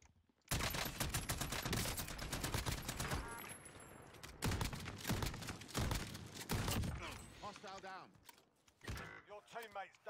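Rapid bursts of video game gunfire, a sustained fusillade in the first few seconds and then further volleys with mechanical clatter, loud and close, with someone talking in between.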